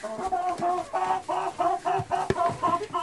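Hens in a backyard chicken coop cluck repeatedly in short, close, rhythmic bursts, several birds overlapping, with a sharp knock near the end.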